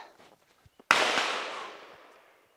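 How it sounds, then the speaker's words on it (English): A single sharp rifle shot cracks out at an outdoor shooting range, followed by a long decaying echo, with faint footsteps and small knocks before it. "Hopefully you can hear me over the gunshots in the background here"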